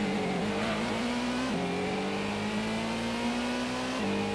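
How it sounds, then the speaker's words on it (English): A racing car engine in Gran Turismo on PS1 holds a steady high drone as it accelerates uphill out of a hairpin, pitch climbing through the gears with brief drops at shifts, continuous and loud. "Into the hairpin. Accelerating up the hill."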